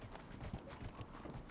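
A horse's hooves clip-clop at a steady walking rhythm in the Dragon Age video game, soft and fairly quiet, with no voices over them.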